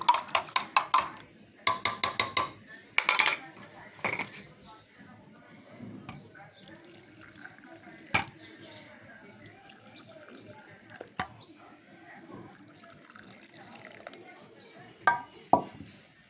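Metal utensils clinking and rattling in a home kitchen while tea is made for three, with sharp clusters of taps and scrapes early, scattered clinks later, and someone talking throughout.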